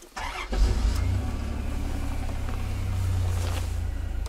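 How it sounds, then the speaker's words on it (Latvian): A 1991 Chrysler Grand Voyager hearse engine cranks and catches, then settles into a steady, even idle with a low rumble that holds throughout. "motoriņš strādā vienkārši perfektni"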